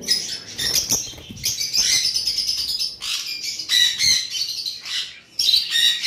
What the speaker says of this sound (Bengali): আমাদের লাভ বার্ডগুলো দেখাচ্ছি শুধু